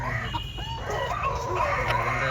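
Native Kerala chickens, an endangered local breed, cluck and call close by in a short burst over a steady low background hum.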